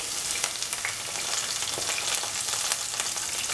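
Green chili sizzling in hot oil with onions, cilantro and curry leaves in a pan for aubergine fried rice, a steady close crackling fry with small pops and no talk.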